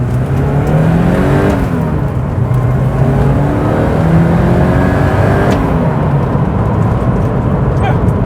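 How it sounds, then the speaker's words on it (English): Porsche 944 Turbo fitted with an aftermarket ECU on a base tune for bigger injectors, its engine droning steadily from inside the cabin while driving, with rising and falling pitch as it pulls through the revs. "As you can see, it drives like a normal Porsche"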